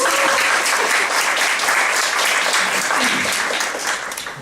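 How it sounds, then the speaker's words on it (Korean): Audience applause at a conference talk, a dense, steady wash of clapping that fills the whole stretch and tapers slightly toward the end, with faint voices mixed in. "박수 한번 부탁드리겠습니다."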